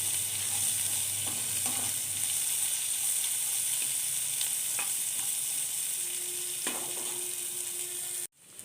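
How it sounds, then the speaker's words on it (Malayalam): Sliced onions sautéing in a pan for a Kerala anchovy (netholi) masala fry, a steady bright sizzle with occasional clinks of a spoon stirring, close and continuous until it cuts off abruptly near the end. "സവാള ഒന്ന് നന്നായിട്ടൊന്ന് വഴണ്ട് വരണം."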